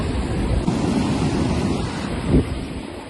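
Steady roar of surf on Chavakkad beach, with a broad wash of noise and wind buffeting the microphone, one wave surging a little louder near the end.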